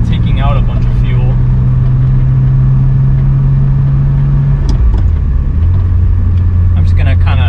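BMW E36 with an M50 engine and forced induction, driven at low cruising RPM: a steady low engine drone that dips and shifts pitch midway, with a person talking over it throughout.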